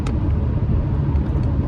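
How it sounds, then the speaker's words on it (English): A car drives past in the emergency lane on a highway, heard as a loud, continuous low rumble of engine and road noise from inside a moving vehicle, with no clear rise or fall over the short stretch. "there's a car coming in the the emergency lane"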